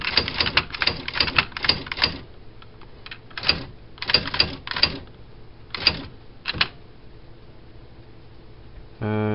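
A 1988 IBM Wheelwriter electronic typewriter prints text in quick clusters of sharp, close daisywheel strikes, separated by short pauses, and ends with a brief mechanical whir.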